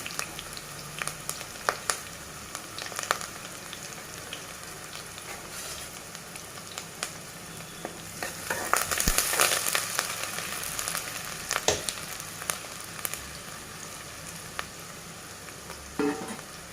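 Onions and curry leaves frying in a pan for mutton curry served with ragi sangati, a steady close sizzle broken by crackles and pops, with scraping stirs that grow busier partway through.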